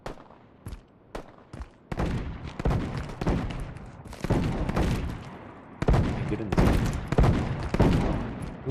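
Gunfire in a first-person extraction shooter video game, a series of sharp bursts and single cracks in irregular clusters, loud and close, with a voice talking over some of the shots.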